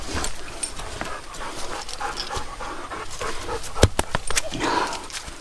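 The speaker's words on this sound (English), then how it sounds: "He's a good dog." Up close, an English Setter bird dog pants hard in quick, uneven bursts after grouse hunting in a Virginia forest, with scattered clicks and rustles mixed in and no speech.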